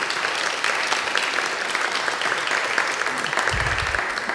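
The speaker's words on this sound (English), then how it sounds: "how about a round of applause for a wonderful panelists this evening?" Audience applause for a palliative care panel at an evening event, a steady broadband clatter of many hands sustained throughout, with a brief low rumble near the end.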